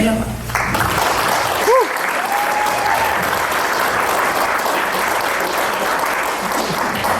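Crowd applause at a pageant honoring the reigning Miss Tausala Manaia, a loud continuous wave of clapping with cheers, whistles and voices rising through it.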